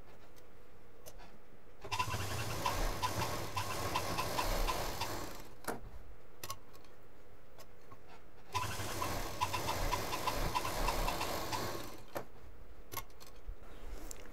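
A sewing machine stitches straight across pleated fabric for a shell-shaped doormat, running in two long bursts of steady rapid ticking with short pauses between them, close and fairly quiet.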